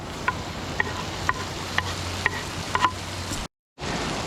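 Onions and mushrooms sizzle in melted butter in a skillet over a campfire, a soft steady frying hiss broken by regular light taps of a stirring utensil, then a brief cut to silence.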